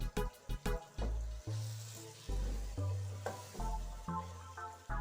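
Ground tomato and masala fry in a pan over medium gas; there are bursts of sizzling and stirring in uneven pulses, fairly close and moderately loud, with no speech.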